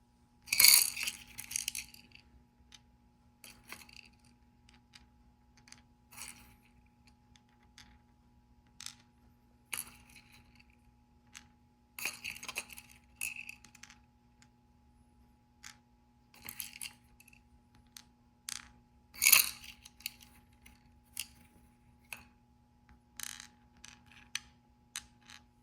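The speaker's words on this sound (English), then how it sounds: "now let's pass out our 100 beads and see how many each Skittle will receive" Small beads dropped by hand into cups, making scattered light clicks and clinks in short bursts separated by quiet pauses, close by with no talking.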